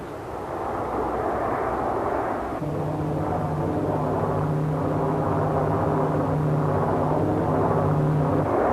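Boeing 747 and 727 jet airliners flying during 1974 NASA wake turbulence research tests give a loud, steady engine drone with a sustained low hum that holds throughout.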